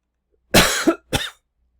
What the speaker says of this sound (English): I had a little coughing attack